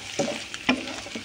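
Coriander leaves dropped into hot oil while frying cluster beans, giving a few short faint sizzling bursts with soft stirring scrapes in between.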